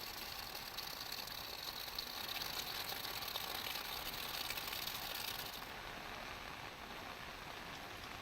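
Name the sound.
rainwater flowing on a road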